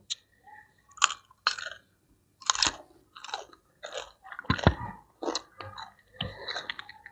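Someone chews papaya salad with fermented fish, field crab and apple snails, with close, wet crunching bites and chews in an irregular rhythm and short pauses between them.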